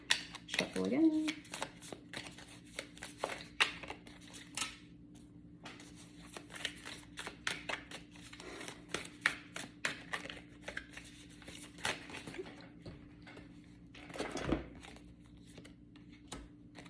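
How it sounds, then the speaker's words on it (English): Cards shuffled by hand in repeated quick riffles and bursts of crisp fluttering, close and fairly quiet, with brief pauses between rounds and a faint background hum. "There's a huge chunk that flipped over, so I'm just gonna shuffle again."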